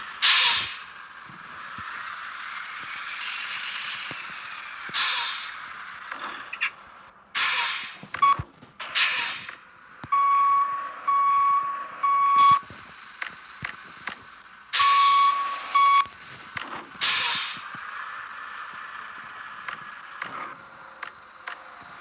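A Marshall bus in the Public Transport Simulator video game sounds intermittent electronic beeps against bursts of hissing and engine noise, with no talking.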